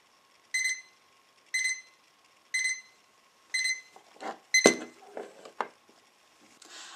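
A Lexon Flip alarm clock rings in four short bursty trills about a second apart, followed by clattering handling noises.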